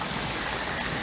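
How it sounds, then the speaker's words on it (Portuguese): Steady, dense rain pours down in a film scene, a loud and continuous wash of hiss with no letup and no voices over it. "Quando a chuva passar, a gente vai pra casa."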